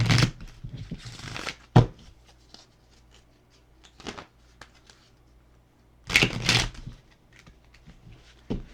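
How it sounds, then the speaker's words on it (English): Tarot playing cards being shuffled by hand in two bursts of crisp riffling and flicking, near and fairly loud, with a quiet stretch of light card handling between them. "let's get a good shuffle in"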